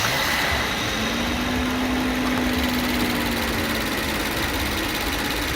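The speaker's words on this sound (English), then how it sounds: "And that's with a huge V12." A Rolls Royce V12 engine hums in a steady, smooth drone that stays even and fairly loud throughout, with no voices.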